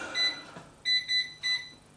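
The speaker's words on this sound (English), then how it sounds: "I'm going to put the monster air fryer on to heat up to 200 Celsius" A large air fryer being switched on to heat to 200 Celsius gives a single short electronic beep, then three more high, clear beeps in quick succession, close and distinct with no talking.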